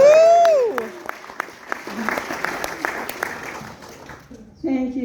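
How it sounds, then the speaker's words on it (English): A live audience applauds a comedy stage act, clapping steadily for a few seconds at moderate distance after a brief vocal whoop at the start, then fading as a voice comes back in. "Thank you for the applause"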